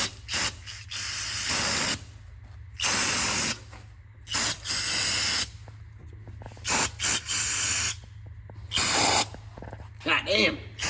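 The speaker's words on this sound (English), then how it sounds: "I'm gonna spray it with some brake clean" Aerosol can of brake cleaner sprayed in bursts on a turbo M50 E30 part, with several loud close hissing blasts of a second or two separated by short pauses.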